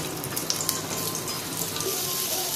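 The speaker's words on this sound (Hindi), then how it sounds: "और अब इन्हें डाल देती हूँ और हल्का सा इन्हें चला लीजिए" Moong dal and oats sautéing in a little oil in a pan, giving a steady, close sizzling crackle with faint scattered pops throughout and no voices.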